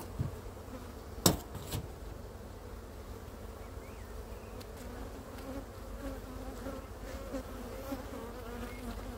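Honeybees, drones among them, buzz steadily around an opened hive, a continuous close hum, broken early by a couple of sharp clicks from handling the frames.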